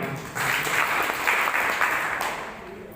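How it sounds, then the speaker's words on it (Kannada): A school gathering audience breaks into a short, dense burst of applause that starts abruptly, holds steady for about two seconds, then fades out. "ಅವರಿಗೂ ಚಪ್ಪಾಳೆ"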